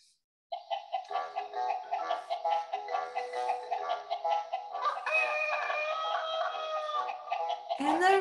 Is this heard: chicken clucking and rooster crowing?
yes